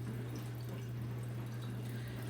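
Water poured into a sourdough starter makes a soft, continuous trickle over a steady low hum, faint and close, with no voices.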